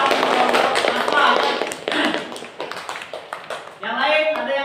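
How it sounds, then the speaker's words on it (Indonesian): A classroom of students gives a round of applause, with many hands clapping in a dense, lively patter that gradually thins out and then swells again near the end, while voices talk over it. "Oke, tepuk tangan dulu."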